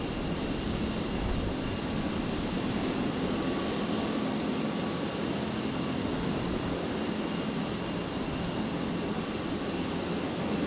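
A Saab turboprop airliner on Rex flight 5632 from Toowoomba arrives on runway 01 left at Brisbane airport, a steady, loud engine roar and rush of air that holds evenly throughout with no talk.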